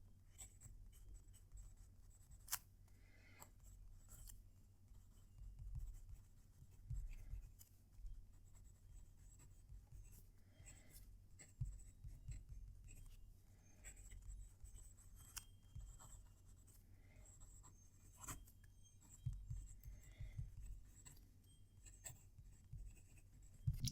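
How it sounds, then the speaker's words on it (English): A Picasso Pimio 916 fountain pen scratches softly across paper in a close, quiet recording, with light irregular strokes, small taps and pauses continuing throughout. "I'm going to reposition the mic so you can hear the writing as I'm doing it."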